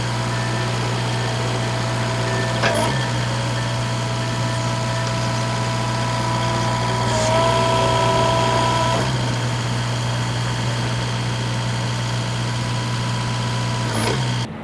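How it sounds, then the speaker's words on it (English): Mini excavator running close and steady while its hydraulic cylinders are retracted, a constant engine drone with a rising hydraulic whine midway and a few clunks. "which can be done easily by collapsing all the hydraulic cylinders on the excavator"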